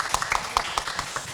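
Scattered hand claps from a small audience at a Korean education citizens' roundtable talk, a handful of sharp, uneven claps spread over about a second, fairly close and moderately loud with no talking.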